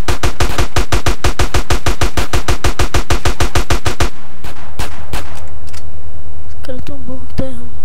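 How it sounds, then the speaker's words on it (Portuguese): Rapid machine gun fire in the video game GTA San Andreas, a loud fast burst of evenly spaced shots lasting about four seconds, then a few scattered single shots amid game ambience with talk. "Vou com uma metralhadora."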